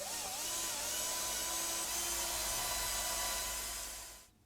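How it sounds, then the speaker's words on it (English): A power drill whirs steadily while pre-drilling 3 mm pilot holes in wooden top and upper back panels of an arcade pedestal base, a continuous high whine that holds for about four seconds before cutting off. "Now let's pre-drill some holes for the top and upper back panel."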